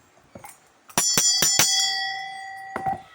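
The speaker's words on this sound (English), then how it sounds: "Once you start ringing the bell, they will know." A handheld bell used in a traditional spiritual practice to call down spiritual guides rings in several quick, bright strikes, then its tone hangs and slowly fades, with a softer strike near the end.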